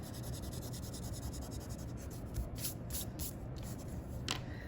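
An eraser rubbing back and forth over pencil lettering on paper, a steady close scrubbing texture with a few sharper strokes, and no one speaking.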